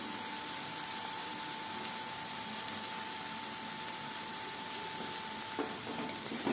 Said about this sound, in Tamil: மாசியை கொட்டிட்டு கொஞ்ச நேரம் கைவிடாம கிண்டுங்க